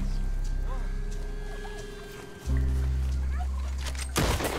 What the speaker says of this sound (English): Get them, turkeys. I hear you.